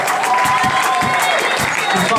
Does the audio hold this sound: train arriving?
no